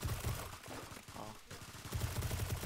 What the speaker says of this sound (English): There's a bunch of sentry guns inside.